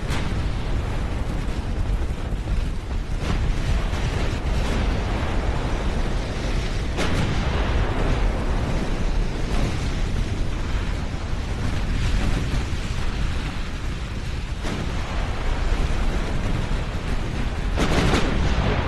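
Torpedo hits and naval gunfire in Ultimate Admiral Dreadnoughts make a loud, dense, continuous roar of overlapping explosions and blasts, with a few sharper bursts standing out and no speech.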